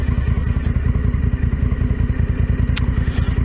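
Big motorcycles ride on a desert trip, their engines a loud, close, steady rhythmic throb with clattering and thumps over rough ground, with no voices.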